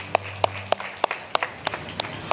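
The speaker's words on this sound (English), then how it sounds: "A round of applause for her," Sparse applause at a workplace awards ceremony, a handful of distinct, fairly close claps at irregular intervals rather than a full crowd, with a low hum beneath the opening moments.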